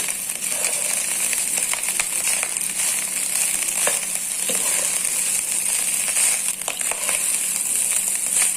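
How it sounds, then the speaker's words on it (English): Steady, crackling sizzle of garlic rice being stir-fried in a hot pan, continuous throughout, with occasional light scraping and clinking. "We have to nicely stir fry for 2 minutes. See, the sound is coming."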